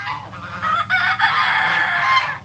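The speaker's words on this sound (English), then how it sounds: "These geese are being loud." Several geese honk loudly and repeatedly at close range while being fed, with overlapping nasal calls and the clucking of other farm fowl mixed in.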